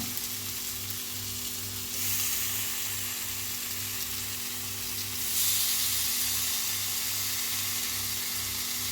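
Spiced raw plantain slices fry in hot oil with a steady, fairly quiet sizzle that surges twice as more pieces go into the pan, over a faint low electrical hum.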